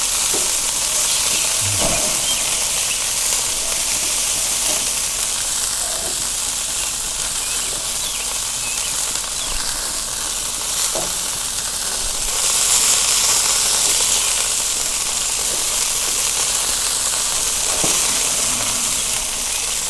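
Burgers frying in a pan give a steady, loud sizzle and hiss throughout, with occasional light scrapes and stirring clicks and no talking.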